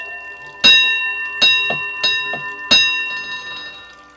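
A reproduction brass bell in an old house struck four times with clear ringing tones, each strike decaying and overlapping the next, close and fairly loud with no talking.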